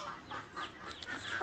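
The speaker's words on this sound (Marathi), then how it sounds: "एक कोंबडी आहे" A hen clucking close by in a Marathi village yard, a few short soft clucks in quick succession.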